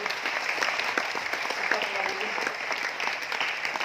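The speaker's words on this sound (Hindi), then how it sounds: "एक बार चाहता हूँ ताली दोनों हाथों से करके बजाइए।" Audience at a motivational talk in Aurangabad, Maharashtra, clapping with both hands, a dense, even round of applause at moderate level with no break.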